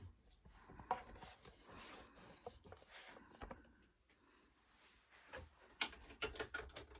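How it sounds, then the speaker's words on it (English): A reloading press resizes new Hornady .338 Win Mag brass cases, giving soft mechanical clicks and ratcheting creaks at close range, with a cluster of sharper clicks near the end. "for whatever reason, brand new brass resizes very easy"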